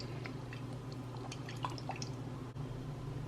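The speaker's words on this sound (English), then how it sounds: "you're going to take about a teaspoon of oil, and you're going to pour it in your skillet." A teaspoon of oil poured into a skillet for jerk chicken pasta, giving a few faint drips and small liquid ticks over a steady low background hum.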